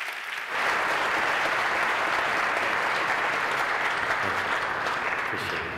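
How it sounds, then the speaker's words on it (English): Sustained audience applause at a symposium on the workforce of the future, a dense, steady clapping that rises abruptly and continues loud and even throughout for speakers and panelists. "So another round of applause for all our"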